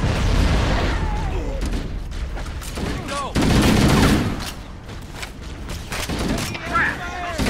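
Stationary guns firing in Halo: Combat Evolved, rapid bursts and booms of gunfire in a chaotic firefight, loud and near, mixed with shouted voices and a whistling streak.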